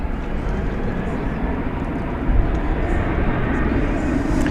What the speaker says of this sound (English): Flight 2368 to San Antonio is now rolling down 18 left. This is a 737-800.